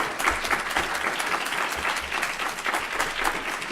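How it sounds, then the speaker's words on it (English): Dense applause from the audience at a criminal justice forum with Attorney General candidates, a steady sustained round of clapping filling the room without pause. "Let's give the candidates a round of applause."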